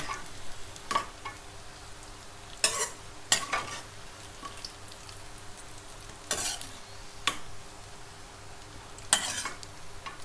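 Tofu fries with salt in a pan while being stirred: a soft continuous sizzle runs throughout, broken by several sharp scrapes and clanks of a utensil against the pan.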